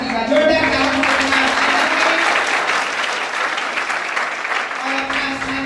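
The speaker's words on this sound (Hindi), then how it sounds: "जोरदार तालियों से" Loud applause from an audience at a Class 12 farewell at a coaching institute, dense continuous clapping that fills the clip, with a faint voice over the start and end.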